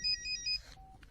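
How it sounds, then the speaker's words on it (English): Mobile phone ringing in a room: a bright electronic ringtone of short repeating tonal bursts, fairly close and alone, ending in a brief lower beep. "This guy's phone's still going off."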